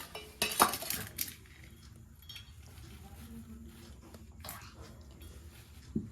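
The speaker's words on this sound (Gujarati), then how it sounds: "હવે આપણે આ બધું મિક્સ કરી દઈએ" A spoon mixes corn fritter batter made from ground fresh corn in a bowl, with a few sharp clinks against the bowl at first, then softer, steady stirring and light scraping, as someone talks quietly.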